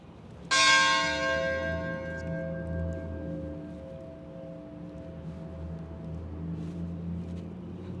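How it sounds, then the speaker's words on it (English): A single bell strikes once near Marion City Hall in Illinois, a clear metallic clang that rings out and slowly decays over outdoor street rumble. "Some bell just rung."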